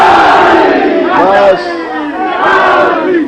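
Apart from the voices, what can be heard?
religious gathering crowd chanting slogans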